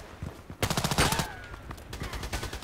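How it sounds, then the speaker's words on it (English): Bursts of rapid enemy gunfire in the online shooter Contract Wars, a dense rattling volley followed by further scattered shots, fairly loud and continuous with no talking. "Why is he shooting at me?"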